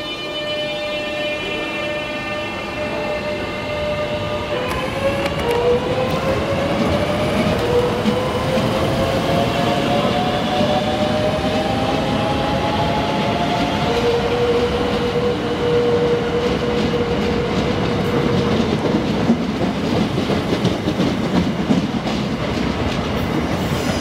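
A British passenger train runs along the rails near Waterloo, a loud continuous rumble with wheel squeal and long gliding tones from the traction motors, steady throughout and with no talking.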